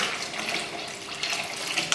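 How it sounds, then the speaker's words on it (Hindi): Tap water runs steadily into a bowl of cut potatoes for washing, a continuous close splashing stream with no talk. "तो ये आलू काट लेंगे सारे और इसके अंदर हम पानी डालेंगे।"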